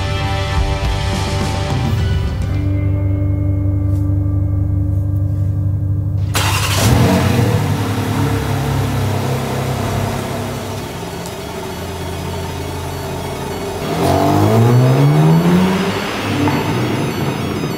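A 2022 BMW M4 Competition xDrive engine roars loudly while driving, a steady heavy drone that briefly drops, then swells again into a rising rev with audible gear changes, all close and continuous.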